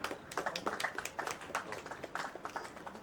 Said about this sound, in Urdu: تالیاں بجائیں گے تو بڑا اچھا ہوگا